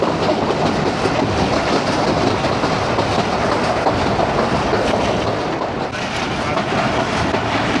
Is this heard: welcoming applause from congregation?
no